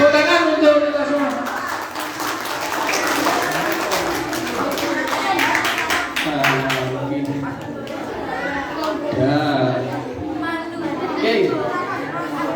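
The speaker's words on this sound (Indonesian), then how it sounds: "Tepuk tangan untuk kita semua" Audience clapping at a Scout anniversary seminar for junior and senior high school students, a ragged round of hand claps strongest at first, then thinning out beneath lively chatter and voices.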